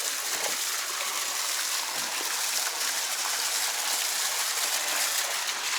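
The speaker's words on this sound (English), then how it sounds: "So we are still filling it up." A swimming pool with a new liner is filled with water, a continuous, even rushing flow that stays steady and close throughout.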